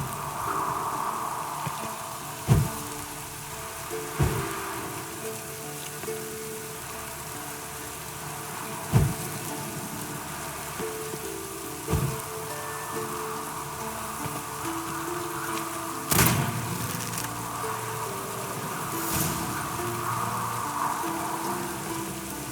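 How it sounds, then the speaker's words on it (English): Rain pours steadily in The Witcher 3 video game, an even hiss throughout with occasional sharp clicks and knocks standing out. "Looks like rain."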